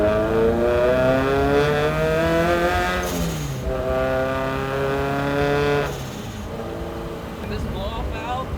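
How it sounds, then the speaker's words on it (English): A turbocharged Subaru BRZ with an aftermarket exhaust pulls hard through two rising rev sweeps, with a blow-off valve hiss at each lift-off and a quieter idle between, recorded up close. "this blow-off valve is godly. It sounds so good"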